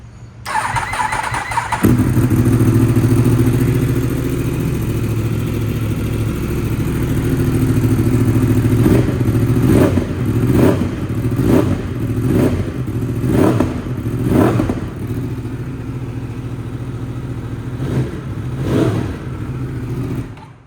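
A 2017 Yamaha YZF-R1 motorcycle fitted with an Akrapovic exhaust starts and settles into a deep, loud idle, then revs in a series of sharp throttle blips, heard close and alone.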